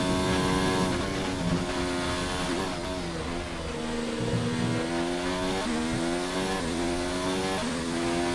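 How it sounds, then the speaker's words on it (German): An F1 race car engine in the video game F1 2019 at Suzuka during qualifying, a loud, continuous high-pitched whine that rises and drops through gear shifts, sounding somewhat strained, with no talking over it. "Auch wenn der Wagen etwas gequält klingt."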